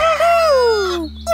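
A single loud rooster crow, one long drawn-out call that slides downward in pitch before breaking off.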